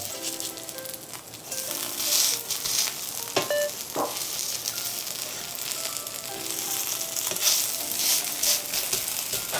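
A bean sprout patty fries in a pan after being flipped, giving a steady close crackling sizzle with occasional small scraping clicks and no voices.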